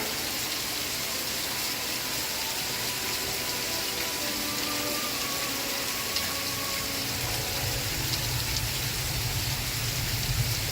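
Steady rain falling, an even wash of hiss and patter throughout with faint dialogue and music from a television show murmuring underneath.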